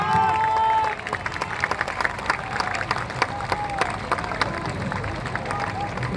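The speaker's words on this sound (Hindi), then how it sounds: "जोरदार ताली बजाइए।" A political gathering's audience claps loudly in a sustained, dense burst of applause that runs throughout, with crowd noise mixed in and no clear speech over it.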